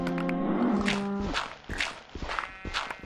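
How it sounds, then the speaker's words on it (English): Cows mooing in the Minecraft video game: a long low moo, then a few shorter animal calls mixed with soft footstep-like thuds, fairly close. "So now we've got some cows, and we've got some piggies, and we've got some sheep."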